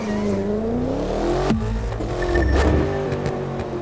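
A Maserati Alfieri engine in the video game The Crew 2 revving and accelerating, pitch sweeping up and down through gear changes, loud and close, with faint tire noise.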